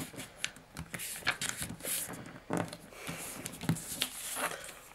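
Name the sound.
folding a sheet of printer paper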